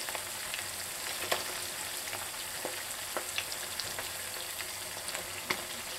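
Diced peppers and potatoes frying in a pan for Potatoes O'Brien, a steady close sizzle with scattered pops and crackles throughout, no voices.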